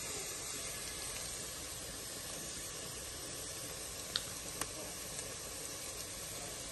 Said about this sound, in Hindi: प्याज जो है वो सोटे होनी स्टार्ट हो चुकी है।